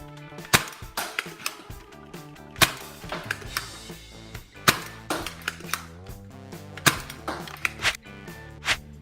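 Dart Zone Blitzfire covert ops blaster firing foam darts, a rapid series of sharp, close snapping shots with short mechanical clatter between them, loud and alone.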